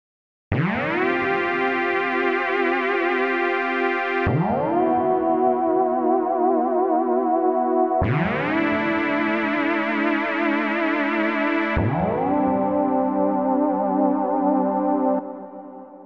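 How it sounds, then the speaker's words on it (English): Techno synth chord in a Drumcode style, with a tremolo effect rippling its volume, struck four times in long sustained bursts of roughly four seconds each, loud and upfront with no talking. "And here is our tremolo effect"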